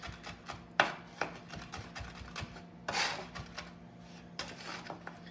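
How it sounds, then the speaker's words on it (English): A knife minces garlic with salt on a wooden cutting board in rapid, irregular taps and scrapes, with a few sharper strokes standing out, close and fairly quiet. "We're gonna mince this garlic"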